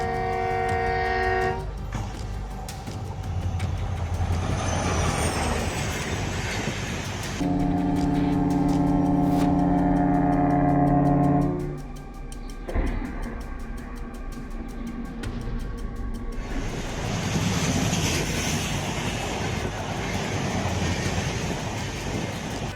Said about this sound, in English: The train whistle broke the silence, a warning of danger.